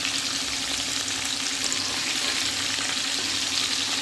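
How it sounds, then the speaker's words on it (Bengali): Prawns fry lightly in a pan with a dense, unbroken, loud sizzling hiss that holds steady throughout, close by and with no talking. "চিংড়ি মাছগুলোকে হালকা করে ভাজবো"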